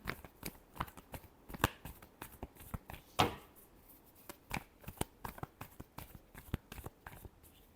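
Tarot cards being shuffled by hand: a quiet, close run of soft slaps and riffling flicks in an uneven rhythm, with no talking.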